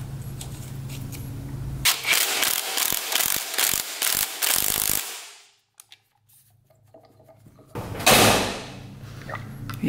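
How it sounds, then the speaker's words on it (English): A ratchet torque wrench clicks rapidly and loudly as it tightens the flywheel nut on a dirt bike. A pause follows, then another burst of ratcheting near the end. "And then we'll torque this back down."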